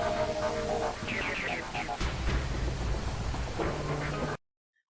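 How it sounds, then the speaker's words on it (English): Thunder and rain sound effects from Sony Vegas: a steady hiss of rainfall with low rumbling and a heavier thunder swell near the middle, loud throughout, then cut off abruptly before the end. "Sony Vegas noise effects! Such as lightning and clouds and rain and zoomy text."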